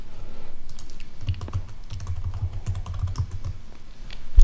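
Computer keyboard typing as a root password is entered during a MariaDB install on Windows Server 2012; rapid, close, fairly loud key clicks in an uneven stream lasting a few seconds, with no talk.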